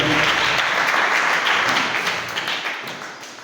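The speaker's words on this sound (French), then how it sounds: "Est-ce qu'on peut acclamer la parole du Seigneur?" A church congregation at a Sunday service applauding, a dense, steady wave of many hands clapping up close that gradually tapers off.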